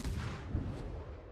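Naval guns firing in World of Warships, a short rumbling low boom with a rolling tail, fairly faint and heard without talk.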